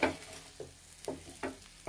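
Pork stir-fried in a pan over low heat as its fat renders out, a soft continuous sizzle broken by several scraping stirs at roughly half-second intervals.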